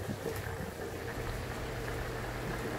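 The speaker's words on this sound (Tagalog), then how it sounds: "kumukulo-kulo siya" Sirloin steak simmering in a pan with rosemary, a steady low bubbling and hissing sizzle that holds evenly throughout, close and fairly quiet with no voices.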